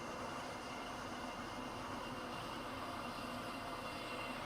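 A Class 170 train cruising at speed in the Roblox rail game SCR: a steady, faint rumbling hum of wheels and motor, continuous and unchanging, with no voices.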